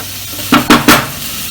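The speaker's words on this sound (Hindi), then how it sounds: "अच्छे से इन्हें मिक्स करेंगे और इसे 4-5 मिनट पकने देंगे" Chilli arbi (taro) being stirred in a pan: three quick, close scraping strokes of a spoon in a row over a faint background hiss.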